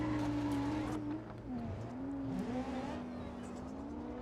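A demolition derby car engine with hood exit exhaust drones loudly and steadily, its pitch wavering slightly as it idles and revs, with no talk.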